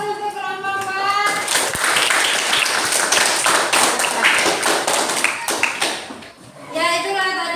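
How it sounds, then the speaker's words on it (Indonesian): Classroom applause for a student group after a presentation, a dense burst of many hands clapping for about five seconds, with voices talking at the start and end. "aplaus untuk kelompok 4"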